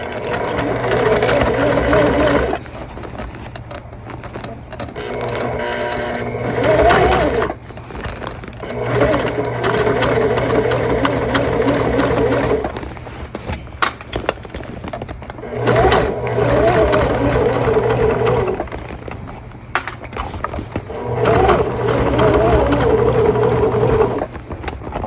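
A sewing machine stitches an Aurora Bag in long steady runs with short pauses between, a loud close whirring hum, while someone talks over parts of it.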